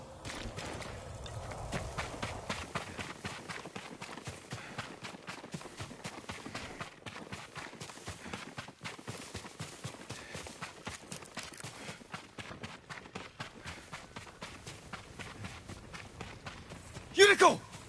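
A horse's hooves clip-clop at a steady run, a dense train of rapid beats, while people talk over them.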